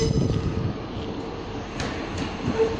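A Northern Class 150 diesel unit, 150123, pulls out of York station with a steady low engine rumble and rolling drone, a few faint squeals and clanks over the top.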